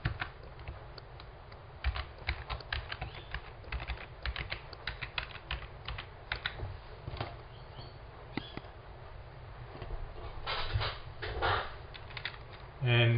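Keys clatter on a computer keyboard as a username and password are typed in quick, irregular bursts with short pauses, close and fairly faint.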